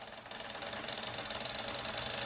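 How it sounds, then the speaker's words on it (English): PC case fan clipping a loose wire inside a newly built gaming computer, a faint, fast, steady ticking rattle over a soft whirring hum. "Silly Adam had a wire hitting the fans."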